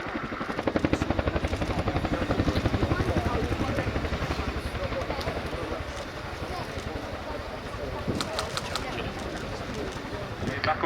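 A Chinook helicopter moves forward and down to pick up troops at an air show, its rotors beating in a loud, steady chop. A public-address voice is heard over the noise.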